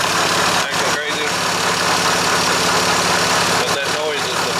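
Idling car engine with a bad power steering pump and a wobbling pulley gives a steady, loud mechanical drone with a whining, vibrating tone, heard up close and continuous throughout.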